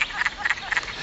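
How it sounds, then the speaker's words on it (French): Near a forest pond, wood frogs give a short run of clucking croaks, about three quick doubled calls in a second, clear and fairly close. "C'est le son des grenouilles des bois."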